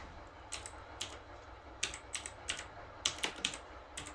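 Keys tapped on a computer keyboard while entering text in a graphics program's text tool, a dozen or so crisp clicks in short irregular bursts, close and fairly quiet with no talking.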